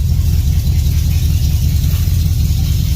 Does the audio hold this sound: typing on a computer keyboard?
no